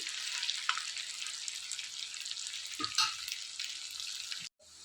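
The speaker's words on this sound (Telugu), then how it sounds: "ఈ ఆయిల్లో ఇదంతా కూడా ఫ్రై చేసేస్తాను బాగా గోల్డెన్ కలర్లోకి వచ్చేంత వరకు కూడా ఇదంతా బాగా ఫ్రై చేసుకోవాలి" Chicken pieces fry in hot oil for chicken pickle, a dense, loud crackling sizzle held steadily for several seconds, with a couple of brief knocks before it cuts off abruptly.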